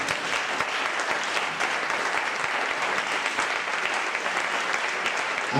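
A church congregation at a retreat bursts into steady, sustained applause to acclaim God, dense clapping from many hands filling the room without pause.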